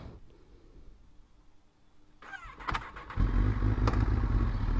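A superbike engine cranks over and catches, then settles into a loud, steady roar as the bike pulls away, building from a quiet idle background to a strong close rumble.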